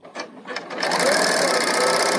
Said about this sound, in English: Now go ahead and start sewing, holding your threads